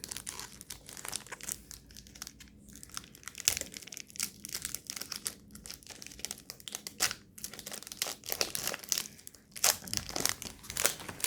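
Crinkling and tearing of a Doruk Dubai chocolate bar wrapper being opened up close, with continuous rustling, crackling packaging and sharper rips throughout.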